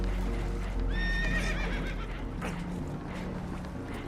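Spooked horses on a boat taking on water in Red Dead Redemption 2 let out a shrill, wavering whinny, with hoof clatter and rushing water noise throughout.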